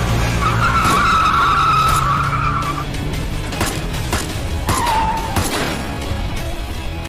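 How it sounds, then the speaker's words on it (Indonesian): A car approaching fast with loud tire squeals and skidding, two distinct screeching bursts over engine roar, close and prominent. "sebuah mobil seketika menghampiri mereka"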